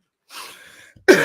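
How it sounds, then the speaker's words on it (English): A single harsh cough bursts out near the end after a quieter breathy rasp, close and loud. "Oh, there we go. The coughing."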